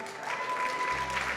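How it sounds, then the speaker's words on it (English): Audience applause at an evening event, a steady dense round of clapping from a room full of people lasting throughout, fairly close and even in loudness. "give yourself a round of applause and welcome to tonight's event"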